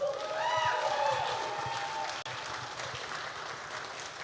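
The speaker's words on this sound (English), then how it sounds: "can we just get another round of applause for Austin?" A crowd at an Opry night at the Women's Department Club in Louisiana gives Austin a warm round of applause with some cheering and whistles, dense clapping that runs loud at first and then thins out.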